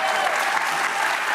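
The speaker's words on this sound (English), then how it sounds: "Why the fuck are people clapping" An audience claps steadily throughout a short stretch, a dense, even wash of applause without pauses.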